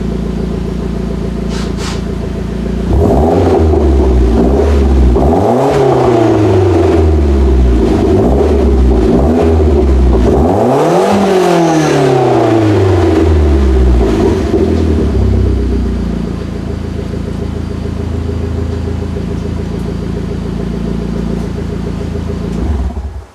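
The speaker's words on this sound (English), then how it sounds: "rev this up a little bit." A 2009 Mitsubishi Lancer Ralliart fitted with an eBay aftermarket exhaust is revved hard several times in close succession, each rev rising and falling over a loud, throaty idle before settling back down.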